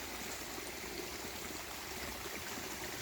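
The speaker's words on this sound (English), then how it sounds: "I think that water that's running out there, that's coming from that other, I think it's a slope portal" Water runs out of an old slope mine portal in Clarion County, Pennsylvania, a steady, even rushing and trickling flow heard faintly from a short distance with no variation.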